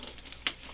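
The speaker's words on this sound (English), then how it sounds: "Now I'm going to cut off these extra pieces." Snips of scissors trimming the extra pieces off a dried flower hoop wreath, one sharp crisp cut standing out over faint rustling of dried stems, close and quiet with no talking.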